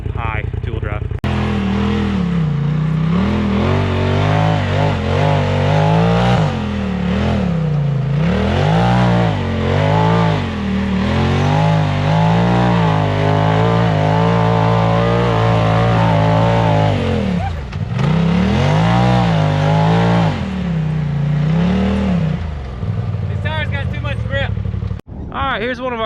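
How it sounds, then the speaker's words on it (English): A Polaris RZR Turbo R side-by-side on 37-inch tires spins donuts in high two-wheel drive at an off-road park. The engine roars loudly throughout, its pitch swooping up and down in repeated revving waves, with a brief cut near the end. "See if this thing will fling around with some 37s and high two-wheel drive."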